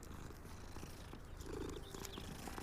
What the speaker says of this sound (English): They have a lot of cats here.